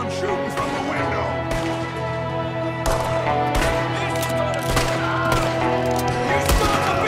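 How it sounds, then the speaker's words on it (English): Rapid gunfire rattles through a Red Dead Redemption 2 shootout, loud overlapping shots and bursts over a dense music bed with shouting voices. "There's another one shooting from the window!"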